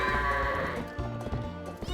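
Goats bleating in Zelda: Twilight Princess, a short wavering bleat up close followed by a quieter second call amid game sounds.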